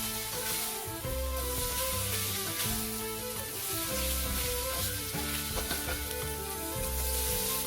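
Tofu stir-frying with pork belly in a hot pan, a continuous loud sizzle with scraping stirs over a steady layer of music.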